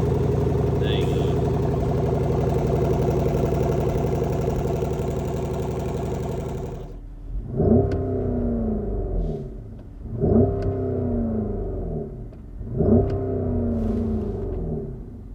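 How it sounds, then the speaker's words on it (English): A 2023 Porsche Cayenne Turbo GT Package V8 engine idles with a steady deep hum, then after a brief pause it is revved three times, each rev a rising growl that falls back to a rumble. "a nice strong V8 rumble, which gets even better when you drive it"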